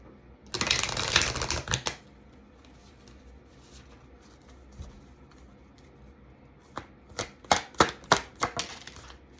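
Tarot cards shuffle close by in two bursts, a quick riffling flutter at the start and a series of sharp snapping riffles near the end, with quiet in between.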